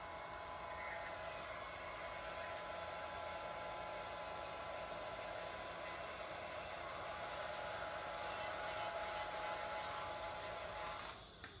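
A heat gun blows steadily as it shrinks heat shrink tubing over connected wires on a GSX-R600-powered crosskart, a constant loud broadband hiss that runs unbroken for the whole stretch before cutting off at the very end.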